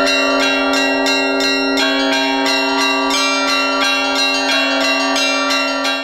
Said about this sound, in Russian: Екатерина Саматова играет на колоколах с осени прошлого года